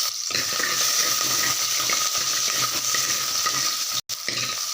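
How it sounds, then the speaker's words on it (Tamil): Vadagam and onions fry in hot oil with a loud continuous sizzle and bubbling, broken by a brief silent gap just before the end. "எண்ணெய் சூடாகிடுச்சு அதனால தான் உடனே பொரியுது"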